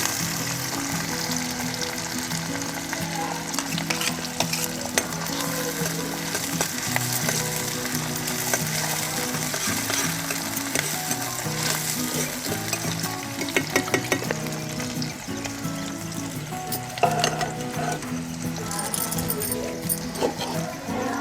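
Onion and green chili frying in a pan, a continuous close sizzle with scattered crackles and occasional stirring clinks throughout.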